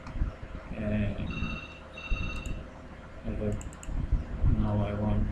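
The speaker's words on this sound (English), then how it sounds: "Suppose I want to add a PC over here, so I can type its IP address" Rapid clicking keystrokes from a computer keyboard as an IP address is entered for a Windows 10 Remote Desktop connection, close and crisp in short bursts, interleaved with a person talking.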